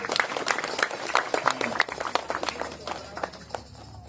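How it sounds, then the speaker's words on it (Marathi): An audience claps for a child's Mahakali costume, Durga's fierce form, at a Navratri fancy dress competition: a burst of scattered, irregular handclaps that gradually thins out, with voices underneath. "या वेशभूषासाठी टाळ्या होतील एकदा जोरदार."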